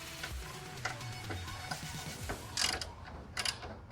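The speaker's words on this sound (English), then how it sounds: "Time to unbolt these 2 right there" A wrench loosens 10 mm bolts on the strut tower of a Toyota Corolla hatchback, with quick ratcheting clicks and metallic taps close up and no talking.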